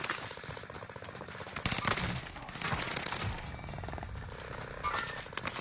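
Rapid gunfire bursts from Call of Duty: Warzone, fairly faint, with repeated cracks and automatic fire layered over continuous game noise and occasional talk.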